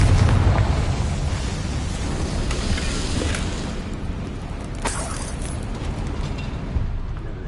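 Confringo explosion spell in the video game Hogwarts Legacy: a loud, rumbling blast with a heavy low boom at the start, followed by sustained crackling debris and scattered bursts that slowly fade, with no voices.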